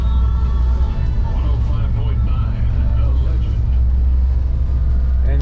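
Engines on a 2021 North River 29 Offshore boat run while the boat spins in a circle on the water. A loud, steady low rumble continues throughout as someone talks over it.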